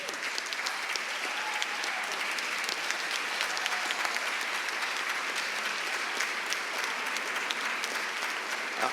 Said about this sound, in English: thank them for all the hard work that you do every day with a round of applause